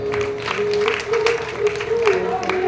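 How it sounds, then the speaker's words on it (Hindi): Audience applause welcoming a guru at a Shrimad Bhagavat Katha gathering at Kailadevi Dham, a steady wash of clapping that runs throughout alongside a sustained tonal voice or instrument. "पधारे, जोरदार तालियों से स्वागत होना चाहिए,"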